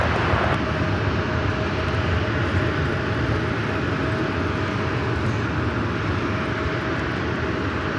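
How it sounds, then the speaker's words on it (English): A Southwest Airlines Boeing 737-700 arriving at LAX, its engines producing a steady, broad roar with a faint whine, loud and continuous throughout without talk. "Next arrival is Southwest Airlines flight 2354 coming in from Tampa,"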